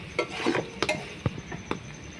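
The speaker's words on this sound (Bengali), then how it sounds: "দিয়ে মশলাটা ভালো করে মিশিয়ে নেব" A masala of cumin and coriander powder is stirred in a pan with a spoon: a few sharp clinks and scrapes over a low background, close and fairly quiet, with no talk.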